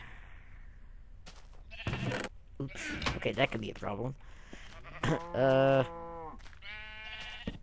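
Sheep in the video game Minecraft bleat in a few short, wavering calls, one loud and close, mixed with a player's talk and brief clicks.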